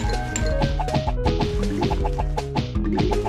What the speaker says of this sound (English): Is it just me or is the sound of whacking the zombies sound oddly satisfying?